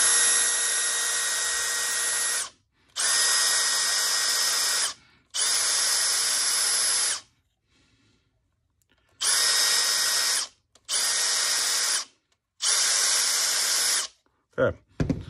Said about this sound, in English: I'm going to go ahead and just kind of bore this out so it's a little bigger